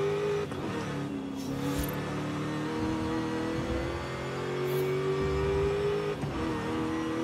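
A Mercedes built as a sleeper, heard from the cockpit view in Forza Horizon 5 as it runs a track: a steady, close engine drone holds pitch with small rises under throttle, plus brief tire noise, and no one speaks.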